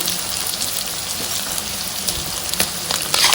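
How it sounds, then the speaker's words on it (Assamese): Steady, crackling sizzle of pork frying in hot oil with cumin and coriander powder, close and continuous, with a few sharper pops near the end and no talking. "এতিয়া ভালকৈ মাংসখিনি অলপ দেৰি ভাজিব লাগিব"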